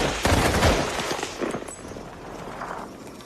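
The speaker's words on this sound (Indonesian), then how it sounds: "Mereka berbaris lalu ditembak." A quick burst of gunfire rings out as people standing in a line are shot: several sharp reports in rapid succession that fade into a dull rumbling tail, with no speech.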